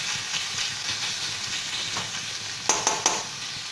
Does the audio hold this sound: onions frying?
yes